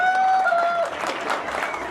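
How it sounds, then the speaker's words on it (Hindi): Applause from an interview audience, a dense wash of clapping that fades out near the end of the short burst under a faint bell-like tone. "रफ़ीक साहब के लिए तालियां जो पीछे मौजूद हैं, और मेरे लिए तो आप लोग बजाई देंगे."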